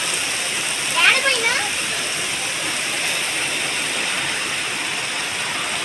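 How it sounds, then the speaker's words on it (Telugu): Sudden heavy village rain pours down in a steady, dense hiss throughout, with a brief faint voice near the start. "చూడండి ఫ్రెండ్స్ సడన్గా వర్షం"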